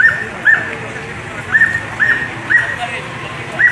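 Dogs near a burning house in Santo Domingo whimper in short, high, whining cries that repeat every half second or so over low background noise and commotion.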